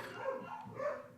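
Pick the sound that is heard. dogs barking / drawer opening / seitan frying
dogs barking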